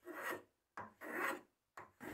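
Three rasping strokes of a sharp hand plane rounding the edge of a wooden sanding block, each a rough scraping pass followed by a short pause, close up and fairly loud.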